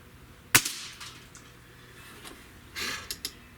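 A Gamo Hunter Extreme 25 air rifle fires an AEA pellet with one sharp, close crack, followed later by a few fainter knocks and clicks in a quiet setting.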